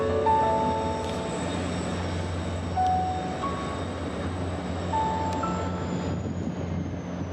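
An MBTA commuter train rolls toward Boston through Worcester, a steady rail rumble with scattered high squeals and tonal whines, sustained and fairly near throughout with no voices.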